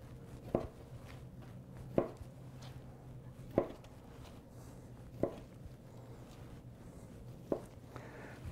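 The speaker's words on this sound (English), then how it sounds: "We're going to cut the regular center cut blade steaks" Five evenly spaced knife strikes through boneless beef chuck shoulder clod while cutting center-cut blade steaks, each a crisp thunk against a board over a low steady room hum.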